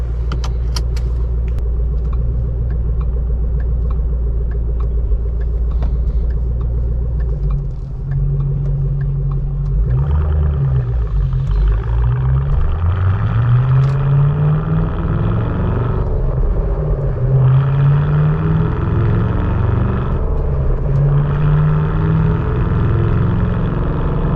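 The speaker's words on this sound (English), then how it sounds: "Nice little rumble to the Borla." Close, steady rumble of a 2014 Shelby GT500 Mustang V8 breathing through a Borla exhaust on the road, idling low at first, then rising and falling as the engine revs through gears, with no talk over it.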